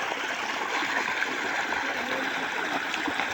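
Water flows along a homemade makeshift channel on a village farm, a steady close trickling and babbling stream with light splashy texture, continuous and alone.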